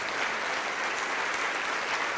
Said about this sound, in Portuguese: vamos aplaudir, igreja, e vamos comemorar